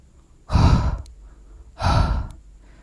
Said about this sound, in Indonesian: Sambil ngos-ngosan.